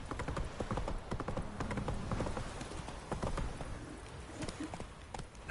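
Horse hooves clip-clop in a steady, rhythmic gait on hard ground, fairly close, with faint background ambience, in the video game The Witcher 3: Wild Hunt.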